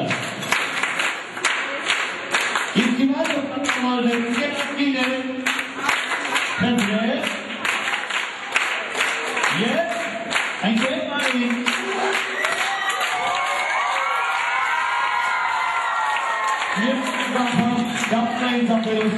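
Loud clapping from a gathered crowd at a jubilee celebration as a festive cake is carried in, dense bursts of applause mixed with voices talking throughout.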